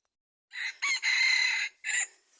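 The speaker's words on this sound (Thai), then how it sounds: "เดี๋ยวว่าสิมีไก่ป่าขันมั้ง" A wild junglefowl rooster crows at night in a rural Thai setting, a loud, close call broken into several harmonic bursts with short gaps between them, with no talk over it.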